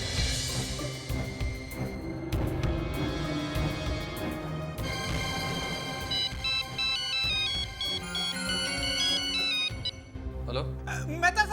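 A telephone ringtone plays as a melodic electronic tune over a music bed with voices around it, then cuts off near the end.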